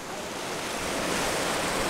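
A waterfall beside a riverside house in Gujo Hachiman, Japan, sounds as a steady broadband rush of falling water with wind buffeting, rising slightly in loudness, with no talking.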